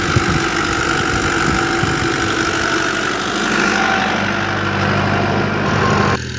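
A 640 model tractor engine idles with a steady, knocking low-mid chug, loud and close, running continuously with a slight change in tone partway through and a brief dip near the end.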